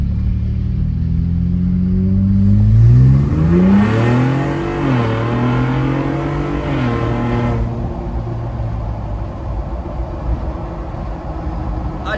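A Ford Bronco Raptor with the 3.0 engine and CPE exhaust revs hard in Baja mode. Its loud, close exhaust note climbs and falls through several rising sweeps, then settles to a steady rumble.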